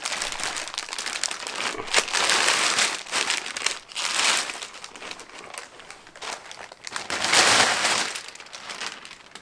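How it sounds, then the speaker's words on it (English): Continuous loud crinkling and rustling of a plastic bag around a Focal in-wall subwoofer being unboxed, handled up close in surging waves with no talking. "We've got a plastic bag here."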